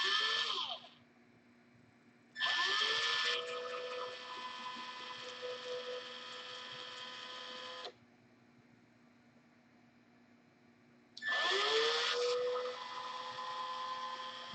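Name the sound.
drilling a hole with skived tubing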